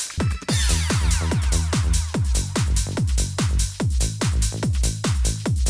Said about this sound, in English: And then with the drums, this is what it sounds like.